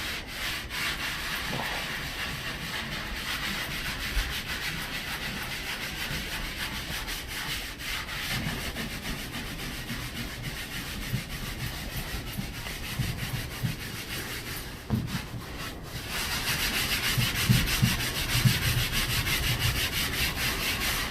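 A drywall sanding tool with a dust-trapping design is worked by hand across sheetrock in a continuous steady scraping rasp, with a close, even texture and no voices.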